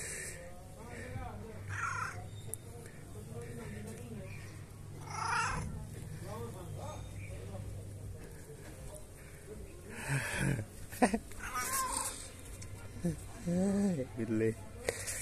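A cat meows a few times between people talking nearby, with household noise in the background.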